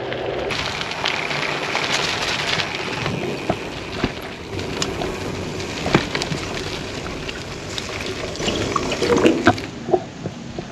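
A SRAM Force AXS front brake on a bicycle gurgles under hard braking, a continuous watery bubbling hiss scattered with small clicks and pops that stays fairly steady throughout, with no voices.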